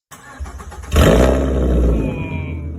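A 2014 Ford Mustang V6 engine barks to life with a sharp rev, then settles into a loud, steady rumble with some intake growl, close by.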